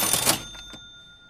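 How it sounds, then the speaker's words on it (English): A cash register cha-ching sound effect: a loud metallic clatter up front, then a few quick tapping hits and a sustained ringing bell tone that decays, with no speech. "that first sound was kind of like a cash register sound. It was like cha-ching."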